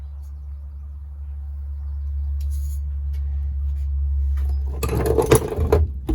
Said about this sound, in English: These spot weld cutters work really well.